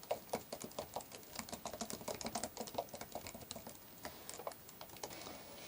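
Rapid, uneven key clicks from a computer keyboard while someone writes Python code, a steady close patter of individual taps with brief pauses, no voices.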